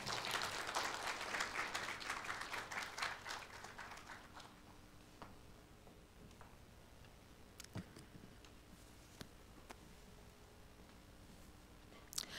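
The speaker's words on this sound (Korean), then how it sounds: "큰 박수로 맞이해 주시기 바랍니다" An audience at a university innovation results-sharing event claps, loudest in the first few seconds and then thinning to a few scattered claps and clicks in a quiet hall.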